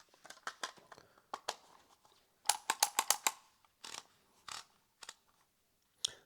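Rapid plastic key clicks from typing on a Brother P-Touch label maker come in quick bursts and pauses, close and crisp in a quiet room.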